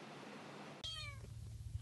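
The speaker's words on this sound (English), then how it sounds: "Who that little Bobo cat" A cat gives a single clear, close meow partway through, following a quiet stretch, with faint room noise after.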